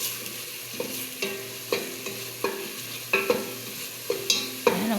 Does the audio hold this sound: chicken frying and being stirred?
yes